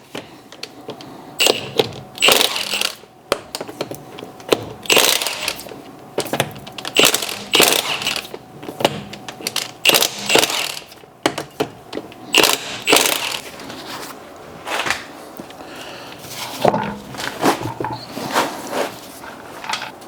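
A rusted-on car wheel is taken off in bursts of mechanical rattling and clanking, likely from a ratchet or impact tool, in short uneven spurts separated by quieter gaps, close and fairly loud.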